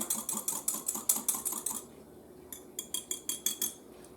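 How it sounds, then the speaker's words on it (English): A whisk rattles quickly against a bowl of cinnamon roll dough mixture with yeast, a run of sharp metallic clicks, a short pause, then a second burst of rhythmic taps, close and fairly quiet. "I'm going to give it a little whisk so it mixes in a little better"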